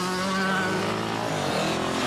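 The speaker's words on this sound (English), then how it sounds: "their signal, it's a dead engine start" Several enduro motorcycles fire up together at a dead engine start at the Bitter End Enduro near Rock Falls, Illinois, a dense continuous engine roar with shifting revs, loud and unbroken.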